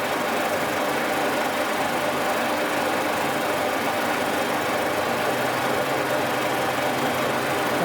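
A boring machine cuts metal with a loud, continuous mechanical whirr and grind. The noise holds at an even level for the whole stretch, with no talk over it.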